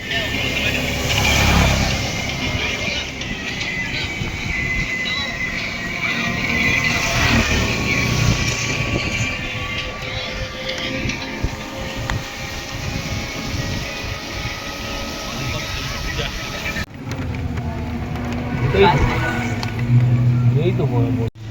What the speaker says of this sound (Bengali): এই বৃষ্টিতে বাইকে যাবো